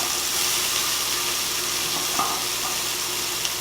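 Garden radishes frying in a pan until lightly browned and crisp, giving a dense, even hiss of sizzling oil with only a couple of faint clicks and no voices.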